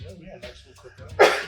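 A person sneezes once, sharp and close, right after a few lines of casual conversation between people.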